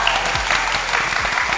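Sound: audience applause

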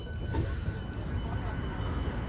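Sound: train running on tracks in Sweden

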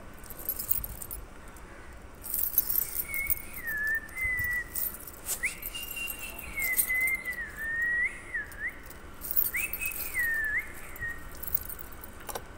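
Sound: keys jangling while trying keys in a lock

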